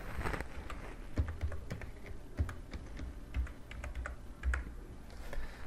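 Typing a wallet address on a computer keyboard: a steady run of quick, close plastic key clicks with a few heavier taps, no voices.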